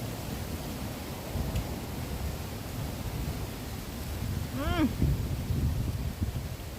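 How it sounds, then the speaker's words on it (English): Steady roar of strong wind buffeting outdoors, a broad rushing noise throughout with a brief rising whistle-like tone near the end. "it's really windy out. Let this pass for a quick second."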